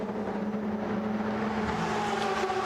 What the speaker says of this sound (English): So here's the Cetilar car, and the only Dallara, of course, in the field.